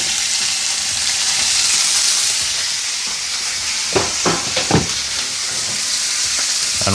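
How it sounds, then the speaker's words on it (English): Sirloin steaks sizzling loudly in a pan on an indoor stove, a dense steady hiss close by with a few sharper crackles and spatters near the middle, no talking. "We're throwing on our sirloin steaks."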